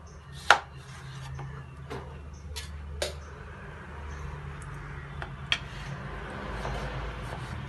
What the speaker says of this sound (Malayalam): ഇനി ഇതിനെ ചെറിയ കഷ്ണങ്ങളാക്കാം.